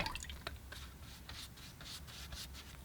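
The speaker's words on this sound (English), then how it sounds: "I'm flooding the paper with lots of water with my flat brush here." Soft, close wet rubbing and dabbing of a flat brush spreading water across watercolor paper, faint repeated strokes with small splashy drips and no talking.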